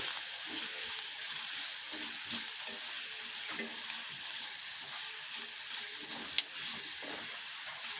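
Spices sizzle and crackle in hot oil as tempering for raw mango pickle, a steady hissing fry with a few small pops, close and fairly quiet.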